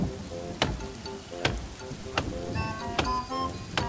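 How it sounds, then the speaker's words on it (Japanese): Steady rain falling in the survival video game The Forest, a constant soft hiss broken by a few sharp, louder taps and clicks at irregular intervals. "まず雨降ってきた。"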